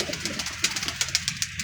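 Kasur pigeons coo in quick, repeated soft calls close up, with no talking.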